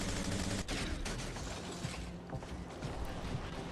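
Weapons firing in the mech combat game War Robots: a dense, steady stream of mechanical clattering shots and metallic impacts, continuous and fairly loud with no pauses, no voices over it.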